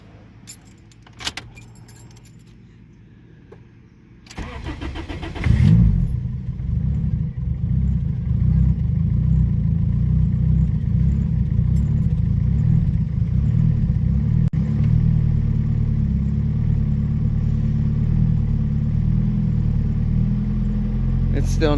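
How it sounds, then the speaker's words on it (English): A 1997 Honda Civic EJ8 with an unfinished cold start tune cranks and catches after a jangle of keys, then settles into a loud, steady, rumbling idle that holds close by for the rest of the clip. "fire it up and hear how it sounds."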